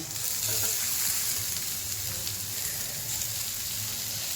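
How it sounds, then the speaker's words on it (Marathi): Onion frying in a pan for sev bhaji, a steady dense sizzle that holds loud and close throughout with no talking. "आता आपण कांदा भाजतोय"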